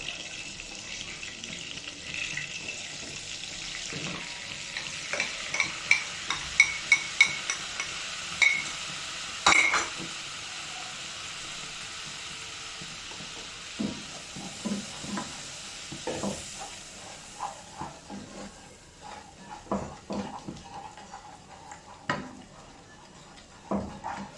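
A spoon scrapes and stirs flour in a hot pan with a soft sizzle underneath, irregular clinks and scrapes repeating over a long stretch.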